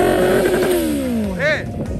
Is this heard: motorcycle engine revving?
yes